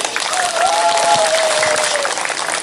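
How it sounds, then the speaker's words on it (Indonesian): Crowd applause at a large Islamic religious gathering, loud continuous clapping with a voice-like tone briefly rising through the middle. "Tepuk tangan sih."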